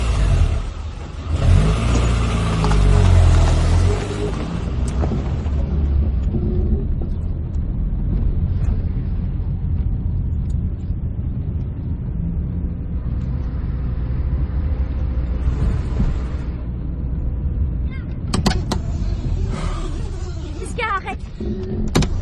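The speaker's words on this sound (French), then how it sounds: "Arrête ta bagnole." A car drives and revs, its engine swelling loudly near the start and then humming steadily, with people talking over it and a few sharp knocks near the end.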